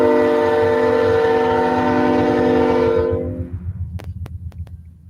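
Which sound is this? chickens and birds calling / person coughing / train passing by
train passing by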